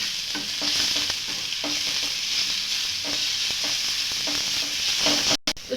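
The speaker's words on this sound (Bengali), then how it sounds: "দিয়ে ভালোভাবে নেড়ে চেড়ে আমি ভেজে নিচ্ছি" Tomato and capsicum frying over high heat in a pan with a little salt, a steady loud sizzle broken by regular scraping stirs of the spatula, with no voices.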